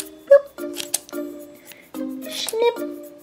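Scissors snipping into a squishy, gooey rubber octopus stress ball toy, several short crisp cuts and squelches close up, with a person talking in between.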